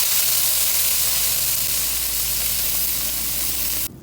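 Pork sizzles loudly in a pan with garlic and onion, a steady dense frying hiss that holds evenly throughout before dropping off abruptly at the end.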